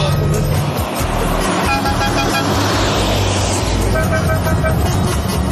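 Steady low rumble of a car driving, heard from the cabin on the road toward Ulaanbaatar, with continuous engine and road noise throughout and faint traffic around.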